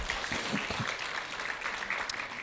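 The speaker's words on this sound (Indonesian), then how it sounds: "Berikan tepuk tangan kita untuk Tuhan kita." A church congregation applauds during a worship service, a steady, even wash of many hands clapping heard from a moderate distance, without a break.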